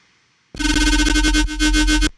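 A loud, bright synthesizer note with no phaser effect starts suddenly and holds steady for about a second and a half with a buzzy, harmonic-rich tone before cutting off.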